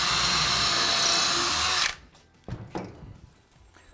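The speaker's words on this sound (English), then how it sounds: "So drill 4 clearance holes into this back section of timber here." A power drill runs loudly for about two seconds while boring a clearance hole into timber for a media wall, then cuts off, followed by a few quiet knocks and handling sounds.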